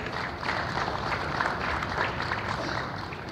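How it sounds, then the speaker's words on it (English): An audience applauds steadily for sponsors at a disaster-management conference, a dense, even patter of many hands clapping at once that holds throughout without voices over it. "Maybe a round of applause for the sponsors."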